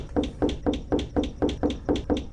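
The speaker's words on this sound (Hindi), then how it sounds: "उसने दरवाज़ा खटखटाया" Knocking on a wooden door late at night in a quiet village: about nine quick, even raps in a steady rhythm, fairly close and moderately loud with no voices.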